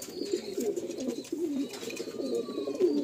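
A Madrasi pigeon coos softly nearby in low, rolling, repeated phrases that continue throughout, with faint chirps from other birds in the background.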